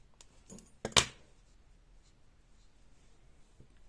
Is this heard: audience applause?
no